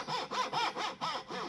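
A hand saw cuts wood for a dovetail joint in rapid, even back-and-forth strokes, about six close rasping passes in a second and a half.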